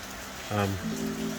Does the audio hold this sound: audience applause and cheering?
no